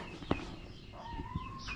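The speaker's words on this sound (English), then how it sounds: "Got some chickens nesting in this here." Nesting chickens cluck softly a few times, faint and brief, over a low rustling background.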